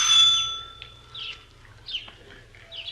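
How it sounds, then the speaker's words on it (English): An old-fashioned doorbell at the front door of a rooming house gives one bright, ringing burst that fades quickly. Faint chirpy sounds follow, over a low background rumble. "We went up to the front door and rang the bell."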